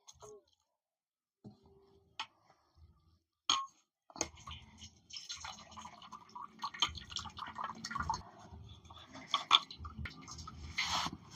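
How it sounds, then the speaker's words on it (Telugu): Cold water is poured over cooked vermicelli for egg semiya, with faint drips and clinks at first, then a longer stretch of quiet splashing and trickling. "ఇప్పుడు ఇది మెత్తగా కాకుండా ఇగో ఈ సల్ల నీళ్ళు పోయాలి, పొడి పొడి అవుతుంది"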